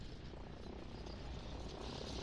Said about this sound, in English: He spotted the helicopters coming in